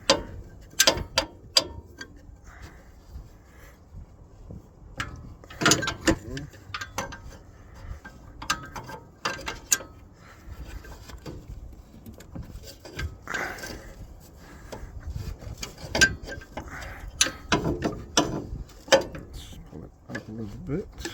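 A wrench working an 11/16 bolt loose on the engine of a Miller 400D welder: sparse metallic clicks and clanks of the tool, close by, scattered between quiet stretches with someone talking intermittently.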